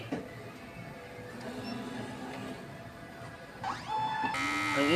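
A DTF printer runs a nozzle check, giving faint mechanical whirring and buzzing with rising motor tones near the end, building louder in the last second.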